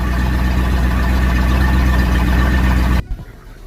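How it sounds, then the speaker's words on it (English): A 1989 Bayliner Capri 5.0 ski boat's inboard/outboard engine idling, a loud, steady, low rumbling drone that cuts off abruptly near the end, leaving faint background noise. "As you can see now, the boat is on idle"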